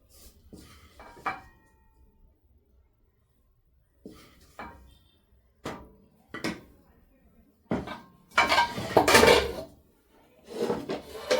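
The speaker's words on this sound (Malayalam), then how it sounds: "അപ്പം നമുക്കിതൊരു സെർവിങ് പ്ലേറ്റിലേക്ക് മാറ്റാം." Cooked onion dish being moved from pan onto a serving plate, with scattered clatters of spoon on dishes, intermittent scrapes and bumps, and a louder burst of clinking and scraping near the end, no talking.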